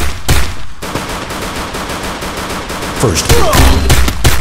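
Rapid bursts of automatic gunfire in the Free Fire battle royale game, repeated volleys and single shots crackling loudly throughout, with a player's voice talking over the shooting.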